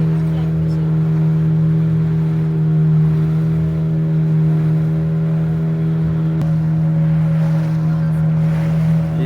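A motor boat out on the sea off Goa on a dolphin-watching trip, its engine giving a steady, close, droning hum with a low rumble that runs unbroken through the whole stretch.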